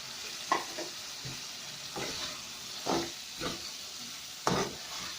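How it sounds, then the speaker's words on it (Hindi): Potatoes frying in a masala gravy for a bottle gourd curry, a soft close sizzle punctuated by a handful of spoon stirs and scrapes at uneven intervals. "अब इसमें हम अपने आलू ऐड करेंगे"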